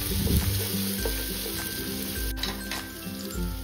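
Ginger, garlic, chilli and coriander paste sautés in a pan with a steady close sizzle, light clinks and stirring scrapes over the top, and no one speaking.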